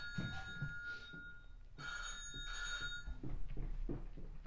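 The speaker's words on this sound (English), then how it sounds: "I got a GGR satellite phone call" A satellite phone rings aboard a yacht at sea during the Golden Globe Race, its electronic bell tone sounding in repeated bursts over steady background noise.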